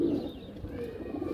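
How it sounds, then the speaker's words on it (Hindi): Kaldume Fulsar pigeons coo, giving soft low throaty calls close by against a murmur of background noise. "दोनों ही कल्लुमे फुलसरे कबूतर हैं"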